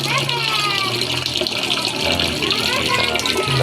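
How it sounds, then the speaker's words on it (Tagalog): A heavy duty water pump runs at a catfish pond at night, water gushing and splashing steadily nearby, with someone talking over the flow. "Ito na lang pang heavy duty yung nabili nating ano"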